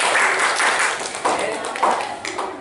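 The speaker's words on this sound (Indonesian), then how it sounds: "Oke, tepuk tangan." Classroom audience clapping after a group's questions are answered, a dense broadband patter that swells and fades over a few seconds alongside background talk.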